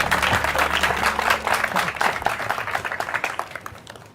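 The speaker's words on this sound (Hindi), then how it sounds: "आप सबकी भरपूर तालियों में" Audience applause at an orphanage event in a drama scene, dense clapping from a crowd that starts full and gradually thins and fades toward the end.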